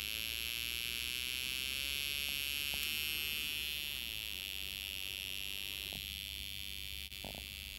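A steady, high electronic buzz from a Snap Circuits buzzer drones continuously over a low hum, unchanging in pitch, with a couple of faint clicks near the end.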